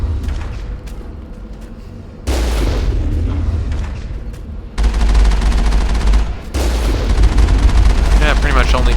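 Gunfire in the video game Mass Effect 1 as shots are fired at a target: dense, loud bursts of weapon fire and booming impacts that swell in stages and continue nearly throughout, with a voice faintly underneath.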